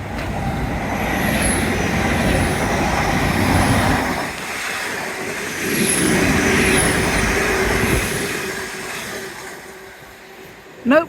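A train rumbles past along a sandy seawall at Teignmouth, a broad sustained roar with metallic squeal and clatter that fades after several seconds, heard from close by with background beach ambience.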